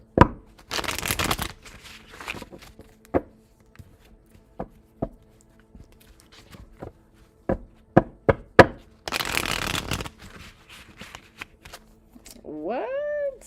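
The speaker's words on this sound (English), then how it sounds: "Two more shuffles." A deck of tarot cards is shuffled close up in two quick bursts of riffling, with scattered soft taps and card handling between them.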